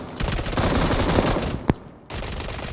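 Rapid automatic pistol fire in the mobile shooter PUBG Mobile, a dense unbroken burst of shots lasting about a second and a half, followed by one sharp isolated shot, a brief lull and more gunfire resuming.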